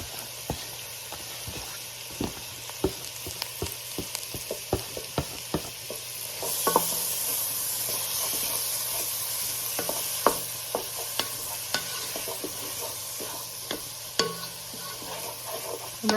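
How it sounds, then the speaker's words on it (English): Chopped mushrooms and diced tomatoes sizzle in butter in a pan, with a steady soft frying hiss and repeated clicks and scrapes of a utensil stirring them, close and fairly quiet. "we're going to cook these up, let those mushrooms sweat a little bit"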